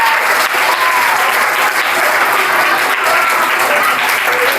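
Children at a school magic show applauding a rope trick, loud continuous clapping from a large crowd, dense and sustained throughout with faint voices mixed in.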